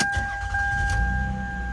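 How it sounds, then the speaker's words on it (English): A Lexus car engine cranks and catches, its low rumble swelling into an idle while two steady chime tones ring inside the cabin. "Let's crank the car up really quick"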